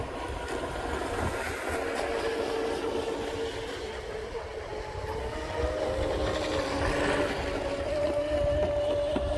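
A Deltaforce 35 fast electric RC boat runs on open water with a big propeller fitted, a steady high motor whine and hull-on-water rush holding throughout, growing slightly louder toward the end, with no talk.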